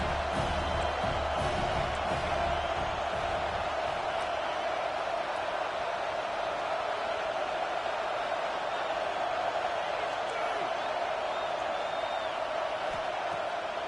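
Dense, steady roar of a stadium crowd at a college football game between Alabama and the Vols on Saban Field, loud and continuous throughout with occasional whoops rising above the rolling noise.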